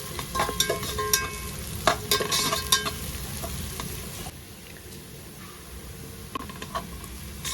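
Onions frying in a pan for vegetable biryani, cooked slowly until brown: a steady close sizzle with repeated scraping clicks of a spoon stirring through, quieter toward the end, no talking.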